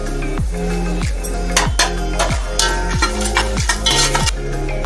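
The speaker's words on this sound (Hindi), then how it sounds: "सारे ड्राई फ्रूट को हम फ्राई कर लेंगे।" Dry fruits frying in ghee in a pan for methi laddu, with a low steady sizzle under repeated metallic scrapes and clinks of a spoon against the pan in a regular stirring rhythm.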